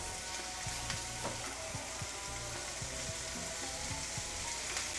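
Hard-boiled eggs sizzle steadily in hot oil and masala with soft stirring scrapes, an even close frying hiss throughout and no talking.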